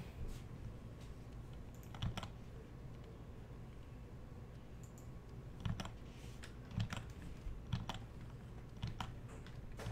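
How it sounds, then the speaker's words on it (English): Typing on a computer keyboard comes through faintly as scattered, irregular clicks and taps over a low background hiss, with a few sharper keystrokes standing out. "I can only hear his keyboard."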